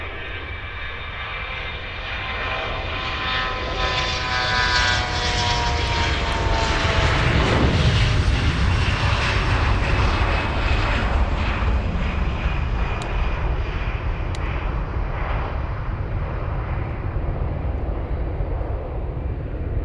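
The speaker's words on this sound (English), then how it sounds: "Let's go for the takeoff." An airplane takes off at Munich airport, its engines building into a steady, powerful roar that swells as it passes close by, then holds as a broad sustained rumble with no talking.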